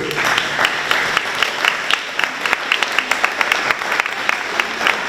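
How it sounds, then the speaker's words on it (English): A school audience applauds after a third-grade strings performance, brisk uneven clapping with distinct individual hand claps, fairly close and steady throughout. "Let's give them a round of applause."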